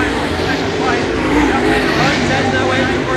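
Late model race cars roar steadily at a distance on Bunbury Speedway, a continuous droning rumble with voices talking over it.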